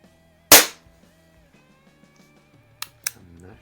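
Sharp single crack of a chrome Barra Schofield 7-inch CO2 BB revolver firing at close range, followed a few seconds later by two smaller quick pops, with faint background hum between.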